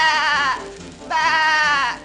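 Two loud, wavering sheep bleats, each about half a second long, separated by a short pause.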